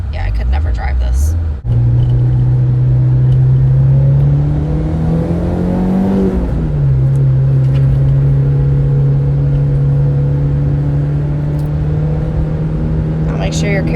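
A Mitsubishi Evo X fitted with a rear wing drives along a road, its engine droning steadily and rising in pitch as it pulls, then settling to a constant cruise, with people talking inside the car over the engine.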